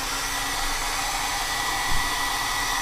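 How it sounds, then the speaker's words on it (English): A hair dryer blows steadily throughout, a continuous broadband whoosh with a low hum, close and fairly loud, with a faint bump near the end. "I am going to have to hit this with just a little bit of hair dryer"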